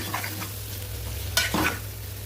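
Eggplant curry with curd being gently stirred in an oiled pan: a low steady sizzle runs underneath while a spoon scrapes and turns the pieces in a few soft, then sharper, strokes.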